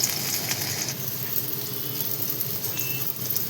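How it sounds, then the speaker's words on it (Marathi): Bitter gourd frying on an iron tawa, a steady soft sizzle with fine crackling and faint pops, close and continuous without speech. "ते मस्त असे कारले आपले फ्राय होत आहे"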